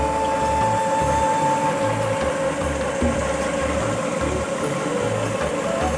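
Tractor engine running continuously to drive an old village tubewell pump, a steady rhythmic low diesel chugging that throbs evenly and stays moderately loud without any talk.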